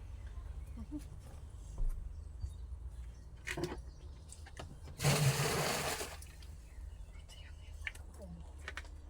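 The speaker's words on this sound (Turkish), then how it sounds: "Haşladığımız erikleri süzeceğiz." Boiled plums being strained for pekmez, with a short gush of water pouring out near the middle over a low, steady background.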